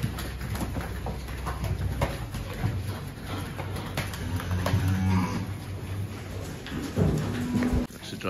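Dairy cows low and moo on a wet, rainy farm as they head back toward feeding, several deep calls rising over a steady background of livestock noise and distant birds.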